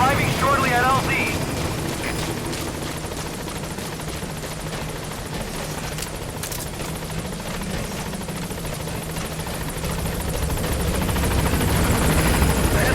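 Pequod, the support helicopter from Metal Gear Solid V: The Phantom Pain, arrives with a loud, steady rotor and engine roar that swells toward the end, with radio voices over it.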